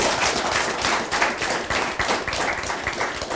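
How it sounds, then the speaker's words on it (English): A crowd claps loudly for a talk-show guest, dense continuous applause with many overlapping hand claps at a steady level throughout. "Let's clap for them."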